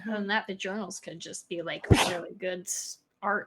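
A single loud sneeze bursts out in the middle of an ongoing conversation, with people talking before and after it.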